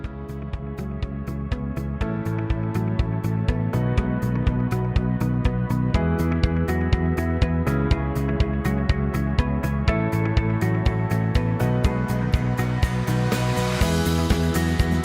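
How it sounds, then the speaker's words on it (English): A Janome Memory Craft 450e embroidery machine stitches a pattern with a steady, fast mechanical rhythm of needle strikes. The motor whirs continuously underneath, and the sound stays loud and close throughout. "press the Start/Stop button and see the magic unfold in front of your eyes as the machine starts to bring to life the chosen pattern"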